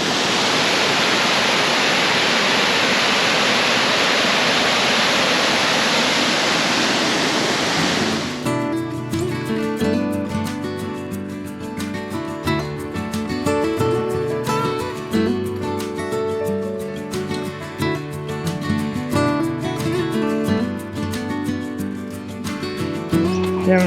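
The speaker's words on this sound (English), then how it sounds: "check out this waterfall" A steady roar of rushing water from a waterfall at Bell Gorge on the Gibb River Road fills the scene, loud and continuous; partway through, a voice speaks softly over it.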